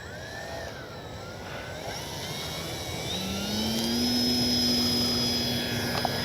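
A Dynam DHC Beaver V2 RC plane's electric motor whines and rises in pitch as it takes off from grass, growing louder with steady tonal whirring and no talk.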